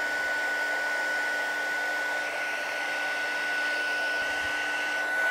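Electric heat gun blowing hot air over a wood surface to work wax in before a rubber mold pour, a steady, even airflow whoosh with a faint constant tonal whine, running alone without pauses.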